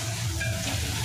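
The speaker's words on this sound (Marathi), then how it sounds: "आता हे आपण चांगलं फ्राय करून घेणार" Tomatoes and masala fry in a pan for a spicy chicken dish, giving a steady, close sizzle with a soft bubbling hiss and no talking over it.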